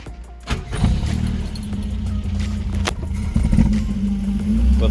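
A 1977 Vauxhall Cavalier MK1 with a new ignition coil and points cranks and fires, then runs rough and uneven, a loud close engine with low lumpy idle and occasional clatter, no talk.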